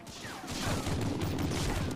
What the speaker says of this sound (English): you can hear every gunshot that's fired anywhere in the level